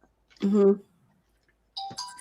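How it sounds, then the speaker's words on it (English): A doorbell chimes in two short bursts separated by about a second of silence. "Somebody's at my front doorbell."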